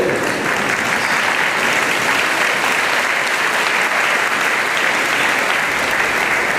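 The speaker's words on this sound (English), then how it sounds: "someone applauded for me" Steady, dense audience applause fills a school's eighth grade promotion ceremony, loud and continuous throughout with no pauses or talk.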